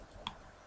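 A single soft mouse click on the render button in 3ds Max, brief and faint against a quiet background.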